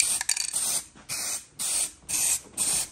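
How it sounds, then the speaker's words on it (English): Epoxy primer is sprayed onto small parts in short hissing bursts, about five quick sprays with brief pauses between them, fairly close and moderately loud, with no talking. "I'm just going to give them a bit of epoxy primer"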